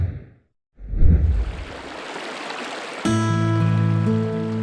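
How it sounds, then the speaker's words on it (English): The North Fork of the Provo River flows past the bank at the base of Sundance Mountain Resort, a strong, close, steady rush of water that is soon joined by sustained music. "On the bank of the North Fork of the Provo River, at the base of the Sundance Mountain Resort"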